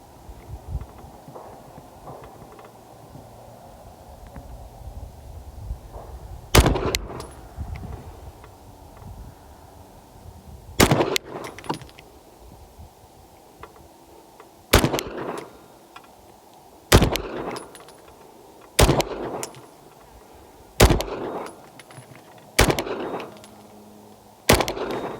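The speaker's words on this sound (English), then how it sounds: "Shoot groups of 10 just so we can get a better grouping down there" Budget 2011-style pistols from Tisas, MAC and LFA fired at a shooting range, seven loud sharp reports at irregular intervals, each ringing out over a low outdoor background.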